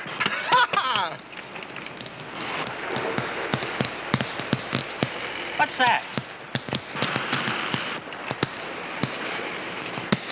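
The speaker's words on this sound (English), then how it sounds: "Sounds like a kid dragging a stick across a picket fence." Rapid, irregular clattering snaps and cracks crackle in a dense stream over a noisy background, with a voice briefly speaking.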